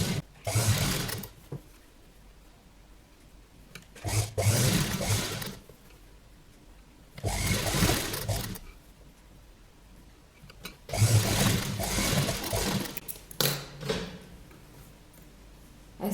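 A sewing machine runs in several separate bursts, stitching piping between plain and printed cloth on a child's sleeveless summer frock, each run a few seconds long with quiet pauses between, close and fairly loud.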